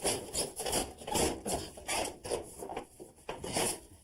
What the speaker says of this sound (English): Okay, Charlie, slide that tool right inside there.